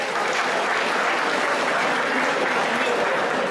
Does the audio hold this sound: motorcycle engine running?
no